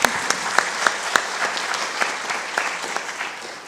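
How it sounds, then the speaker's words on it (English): An audience at a panel session on media, policy and gender equality gives a round of applause, with steady clapping and a few sharp individual claps standing out near the front. "Ladies and gentlemen, a round of applause for my panelists."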